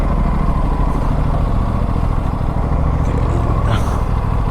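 Motorcycles and other vehicles idling and rumbling outside the Motoplex Hyderabad showroom, a loud steady engine drone with clattering and a brief higher whine near the end.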